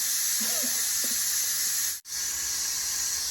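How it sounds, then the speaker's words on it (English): Steam escapes from a pressure cooker's open vent after making bone broth, a continuous, fairly loud hiss that briefly cuts out for an instant before resuming. "we're gonna wait until this completely stops hissing"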